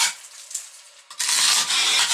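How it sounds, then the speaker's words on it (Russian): A steel chisel breaking into a block of D400 polystyrene concrete, a quiet scrape at first, then a loud, sustained grinding rasp of crumbling material for about a second, with no talk. "берем нашу стамеску и посмотрим на разрушение"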